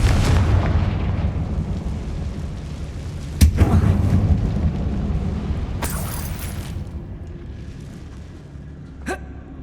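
Confringo blasting spells go off in Hogwarts Legacy inside an abandoned mine, a loud boom at the start followed by two more sharp blasts and a smaller crack near the end, with rumbling debris between.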